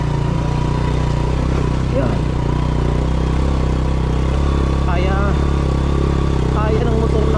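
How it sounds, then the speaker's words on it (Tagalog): Motorcycle engine labouring uphill on a rough, rutted road, a steady mid-pitched drone with clattering bumps, close and continuous under someone talking. "kaya ng motor natin yan"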